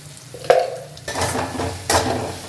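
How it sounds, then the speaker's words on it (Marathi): Onion being sautéed with a little salt in a pan, a few utensil scrapes and clinks against the pan over a light sizzle, close and fairly loud. "आपला कांदा परततोय"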